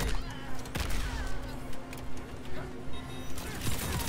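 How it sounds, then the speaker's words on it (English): Gunshots in a Mortal Kombat 11 tournament fight land as a steady series of muffled pops at even intervals, under game sound and talking. "Ooh, good gunshots."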